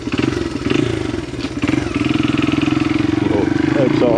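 A small XR80 dirt bike revs and pulls along a newly cut enduro trail, its engine buzzing loud and close with rising and falling throttle, while faint voices sit underneath.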